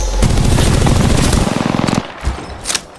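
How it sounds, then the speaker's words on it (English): Rapid automatic weapon fire in a ring-based arena shooter game, a loud sustained burst of rattling shots for about two seconds, then a few scattered booms. "Opening fire."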